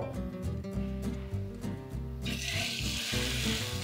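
A beef ribeye steak searing in olive oil in a pan gives a steady, close sizzle that brightens partway through, with soft tonal music running underneath.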